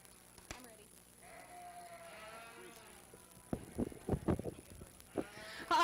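A ewe shown in the commercial ewes class at a county fair sheep show gives a bleat early on amid an indoor arena hum, followed by a few sharp handling knocks.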